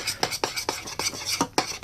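Honeycomb mixture stirred in a pan, a utensil scraping and clinking against the metal in a quick series of close, separate strokes roughly every quarter second, with no talk.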